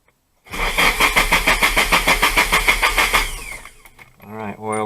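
A Nissan 180SX (S13) turbocharged engine cranks with a rapid rhythmic starter chug for about three seconds, then fires and settles into a rough idle. A voice speaks briefly near the end.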